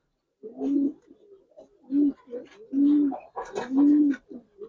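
Red-eyed Giribaz pigeons cooing close by, four or five deep rolling coos in a slow rhythm, with a few softer calls and rustles between them.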